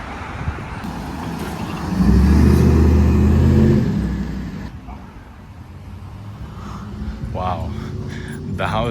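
A stock Cadillac Escalade V revs loudly close by, its engine surging to a strong roar for a couple of seconds before dropping back to a lower rumble, with a person talking over and after it.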